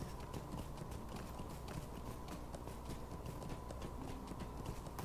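Horse hooves clip-clop steadily in Lord of the Rings Online, a quick even rhythm of hoof strikes over a constant low rumble, faint and unbroken throughout.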